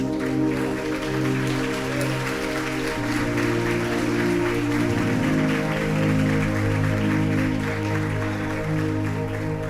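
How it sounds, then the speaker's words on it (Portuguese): Congregation clapping for the Lord during a Sunday praise service in a church, steady applause running under sustained organ or keyboard tones throughout. "aplauda ao Senhor mais uma vez"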